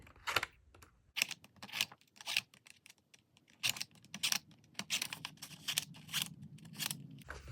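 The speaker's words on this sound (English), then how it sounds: "you literally go between each of these wires and snip it" A planner's wire binding snipped with scissors, a series of sharp, close metallic clicks and snips in an irregular rhythm, separated by quieter pauses and soft handling noise.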